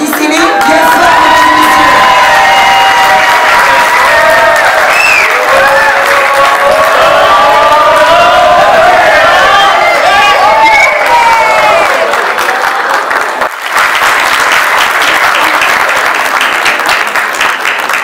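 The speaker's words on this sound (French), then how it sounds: "Applaudissez-les bien fort, mesdames et messieurs." Applause and cheering from a large audience at a business school graduation ceremony, loud sustained clapping with shouts, whoops and children's cries rising above it, and voices mixing in throughout.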